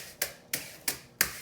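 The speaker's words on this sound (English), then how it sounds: "is the tap sweep, where you tap and sweep," Drum brushes playing a tap-sweep stroke on a drum, four crisp, bright brush hits spaced evenly with soft swishing tails between them, close and fairly quiet with no voices.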